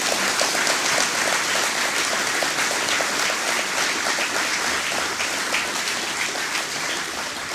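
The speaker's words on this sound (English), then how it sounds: "give the people of PT Martinique, Carriacou, and Grenada another round of applause" An audience applauds steadily at a political gathering honouring the people of Martinique, Carriacou and Grenada, a dense, loud wash of clapping that holds for the whole stretch with no voices on top.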